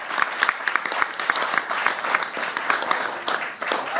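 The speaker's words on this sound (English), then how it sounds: "round of applause" Wedding guests applaud the bride during a best man's speech, producing a steady, full burst of clapping that fills the room from start to finish.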